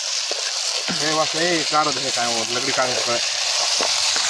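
Chicken frying in a pan while being stirred, a steady hiss and sizzle running throughout, with a voice talking over it in the middle.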